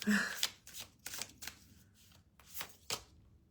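A deck of cards being shuffled repeatedly, with quick riffling bursts in an irregular rhythm, close and fairly quiet, with no voices.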